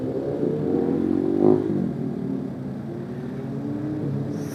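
A Yamaha R6 sport motorcycle engine drones steadily, with a brief rev swelling around the middle before settling back to a constant hum.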